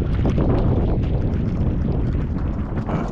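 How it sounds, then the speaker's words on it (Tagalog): Strong wind blows outdoors beside the water on a fishing outing, buffeting the microphone in a loud, steady, rumbling roar that never lets up. "Mahangin na rin."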